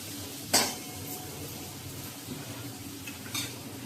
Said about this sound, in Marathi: आता मी मसूर घालते.